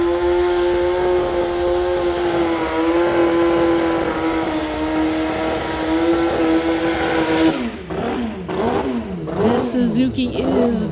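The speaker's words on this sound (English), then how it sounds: "He is from Abbotsford, racing a 2005 Suzuki." A turbocharged 2005 Suzuki at a street legal drag event holds a loud, steady high engine drone for several seconds. It then breaks into rapid revving swoops as the car launches and shifts.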